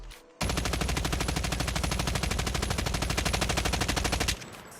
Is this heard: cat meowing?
no